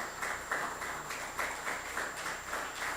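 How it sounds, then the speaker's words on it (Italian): Applause from an audience honouring firefighter Walter Locatello at a public event, a steady wash of many hands clapping at moderate volume with gentle swells, no voices over it. "Posso permettermi di far fare un applauso a Walter Locatello, che è il vigile del fuoco"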